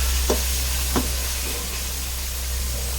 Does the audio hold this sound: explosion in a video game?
no